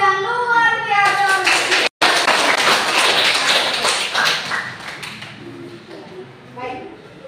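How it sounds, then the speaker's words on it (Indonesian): A classroom of children bursts into applause, a dense burst of clapping hands over several seconds that gradually thins out, with a teacher's voice speaking before and children's voices around it. "sekali lagi beri aplaus yang luar biasa"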